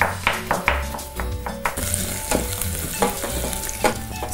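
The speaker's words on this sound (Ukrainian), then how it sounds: "Цибуля і чесник у нас смажаться" Onion and garlic sizzle in a frying pan for a pea soup, a steady crackling hiss broken by a few stirring scrapes and light taps of a utensil on the pan.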